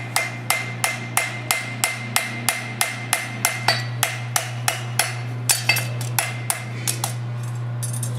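A farrier's hammer rings on a horseshoe in a fast, even run of sharp metallic blows, close and clear over a steady low hum, the strikes growing slightly irregular toward the end.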